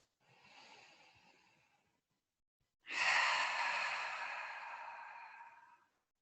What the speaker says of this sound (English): I invite you to take one collective breath with me, starting by exhaling the air out.